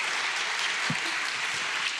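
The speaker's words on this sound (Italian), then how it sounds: "Le facciamo un bel applauso." An audience at a regional Italian day of remembrance and commitment applauds steadily throughout, a continuous wash of many hands clapping at an even level with no voices.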